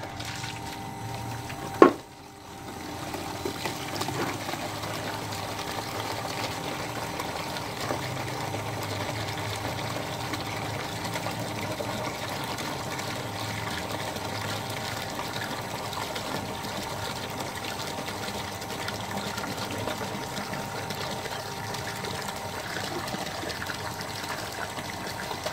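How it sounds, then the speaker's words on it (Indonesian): A Wasser PW-139EA water pump starts with a sharp click and then runs steadily, a constant close motor hum with the rush of water being pumped, continuing unchanged throughout. "sekarang akan kita nyalakan pompa ini dalam waktu 30 detik"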